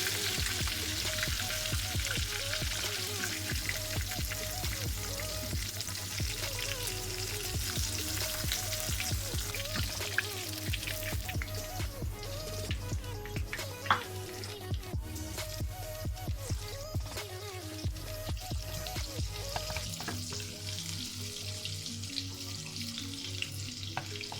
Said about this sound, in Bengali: মাছগুলোকে ভেজে নিচ্ছি, দেখতে থাকুন